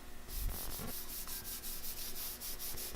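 A hand rubs steadily over rough paint overspray on a car's scoop, giving a close, dry, scratchy rasp in repeated strokes with no voices.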